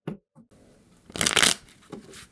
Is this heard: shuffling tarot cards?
yes